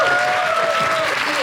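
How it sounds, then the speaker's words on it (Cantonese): Audience applause at a film thank-you screening event, a dense, steady patter of clapping from a crowd, with a faint sustained tone running underneath. "請大家俾啲掌聲"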